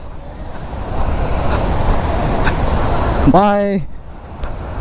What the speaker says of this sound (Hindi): पानी का बहाव कितना तेज है देखो